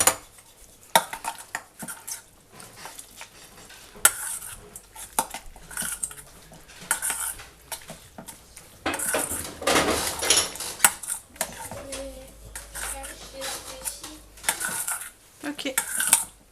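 A salad with grapefruit pieces is tossed in a bowl with utensils, producing a long run of clinks, scrapes and rattling taps, busy and close, with a brief murmur of voices.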